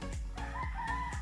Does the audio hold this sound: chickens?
yes